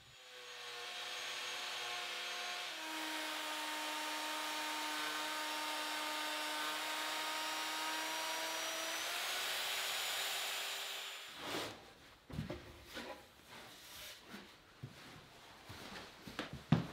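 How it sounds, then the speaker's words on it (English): A router fitted with a flush cut bit trims white oak, a steady high whine running for about ten seconds before cutting off, followed by quieter workshop clatter. "clean up the cut with a flush cut bit in the router"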